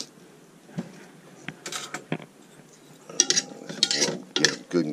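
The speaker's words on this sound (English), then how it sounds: "Now we just stir them up." A utensil stirs pieces of squirrel meat in barbecue sauce, giving irregular scraping and clinking against the pan with wet squelches, getting busier and louder toward the end.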